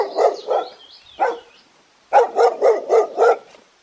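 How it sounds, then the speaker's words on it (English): A dog barks close and loud: two barks, a short whine and another bark, then a quick run of five evenly spaced barks. "D for dog."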